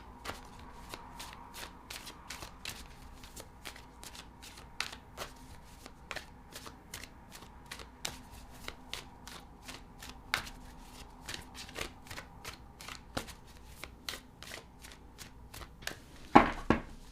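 Tarot cards are shuffled in a long, close, continuous run of quick crisp riffling snaps with no voice, ending in a louder flurry of handling at the end.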